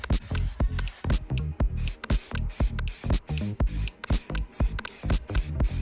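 Short bursts of aerosol black spray paint hiss onto a metal shifter bracket during a Nissan Micra engine swap, repeated rapid puffs close to the mic with no talk.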